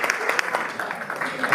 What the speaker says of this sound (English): So please give them a big round of applause as well.